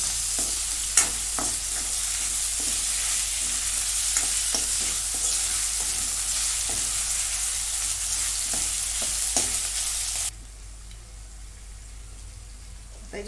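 Chopped tomato frying in a pan with a bright, steady sizzle and occasional stirring clicks close by; the sizzle drops off abruptly near the end, leaving a quieter low hum.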